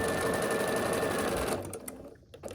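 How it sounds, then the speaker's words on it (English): A sewing machine runs steadily, stitching red and white fabric strips together for a quilted peppermint tree skirt, a dense continuous whir that drops off near the end into a few softer clicks and handling sounds. "I start by sewing a red and a white strip together"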